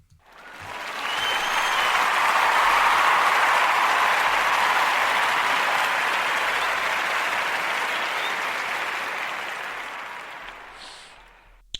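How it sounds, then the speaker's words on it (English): A long burst of crowd applause, dense clapping swelling quickly and holding steady before slowly tapering off near the end. "That's a round of applause."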